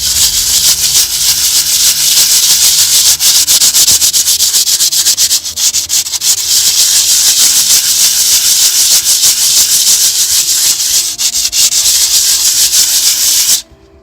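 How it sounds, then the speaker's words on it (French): Sanding a mortar joint between stone facing blocks, a loud, continuous, close-up abrasive rubbing hiss with rhythmic back-and-forth strokes that stops abruptly at the end. "Après, il suffit de poncer le joint."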